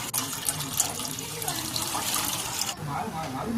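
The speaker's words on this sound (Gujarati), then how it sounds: "હવે એક પેન લઈને અને એમાં નાખશું 2 ગ્લાસ પાણી" Two glasses of water run steadily into a pan, a continuous splashing hiss that briefly dips and then carries on.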